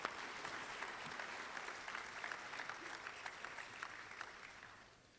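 Sustained applause from the audience at a university commencement ceremony, a steady dense clapping crowd that fades out near the end.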